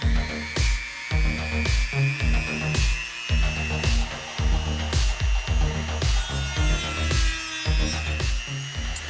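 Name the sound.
Dremel rotary tool removing details from a Gatling gun part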